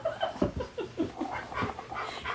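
A black dog wearing an orange collar pants in quick, rhythmic breaths up close, with soft whimpers running through the panting.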